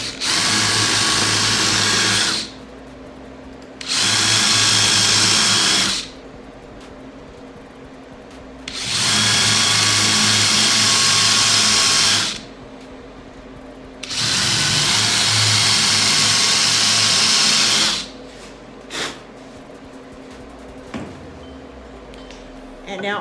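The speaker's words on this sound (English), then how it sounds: "Now I can take my drill and drill pilot holes on my marks." A power drill bores pilot holes in a thrifted piece of furniture, running in four loud bursts of a few seconds each with quiet pauses between and a few small knocks at the end.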